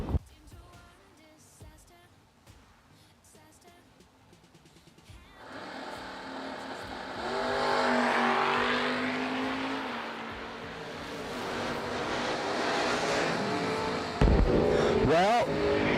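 At a drag racing event, cars including a Mopar in the right lane launch and accelerate hard, a quiet start giving way to a loud, building engine roar that swells and holds, with a sharp burst near the end.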